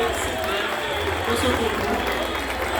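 Audience at an eloquence contest final giving a school steady, dense applause that fills the whole stretch evenly, fairly loud, with voices mixed in.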